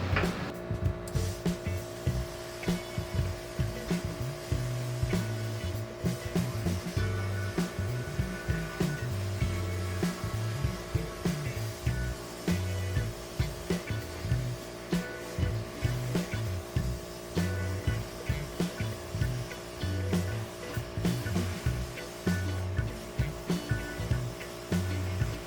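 Abrasive blasting cleans a metal connecting rod end cap at 50 PSI, a loud, steady rushing hiss held for the whole stretch over a pulsing low mechanical thump, with no one speaking.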